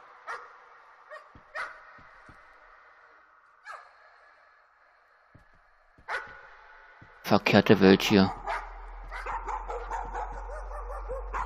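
Dog barking inside the horror game Layers of Fear: a sudden burst of loud, close barks breaks in after quieter stretches of game noise and short knocks, with someone speaking over the scene.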